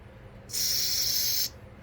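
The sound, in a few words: spray cleaner flushing out an RC nitro carburetor banjo bolt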